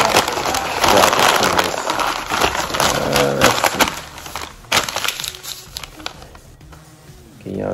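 Chilled bacon-wrapped meatloaf being unwrapped by hand, with loud crinkling and rustling of wrapping in bursts, then quieter handling noises with brief pauses.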